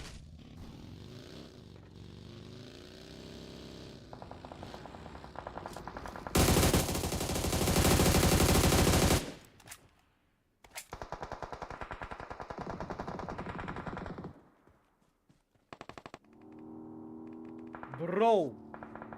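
Automatic gunfire with heavy recoil rattles in a shooter video game during a tournament stream: loud, rapid bursts, one long sustained stretch of fire, then shorter volleys and brief pauses, with a voice sounding near the end.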